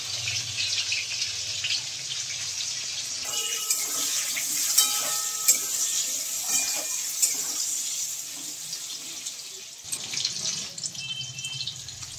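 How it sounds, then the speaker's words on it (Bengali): Broad beans and eggplant frying in oil give an even, hissing sizzle throughout, broken by a few light clinks and stirring sounds. "এখানে আমি সবজির মধ্যে শিম ও বেগুন নিয়েছি, সেটা একটু ভালো করে ভাজা মতো করে নেব"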